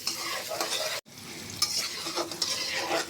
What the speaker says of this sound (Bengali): আলুগুলো আমি ভেজে নিই